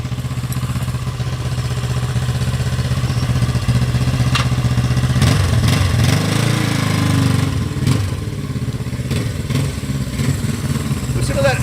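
A 1975 Honda CL360 motorcycle idling, its exhaust giving a steady low throbbing rumble close by, with a brief rise and dip in the middle and light mechanical clatter throughout.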